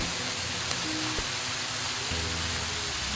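Steady rain falling in the video game Fallout New Vegas, a constant broadband hiss that stays even and unbroken, with a few faint low tones from the game underneath.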